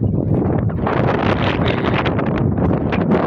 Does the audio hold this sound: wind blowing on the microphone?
yes